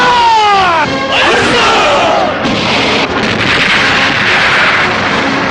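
Artillery and gunfire from a Korean war film set at Wolmido, a dense loud barrage of blasts and crackling shots with shouting voices over the battle noise throughout.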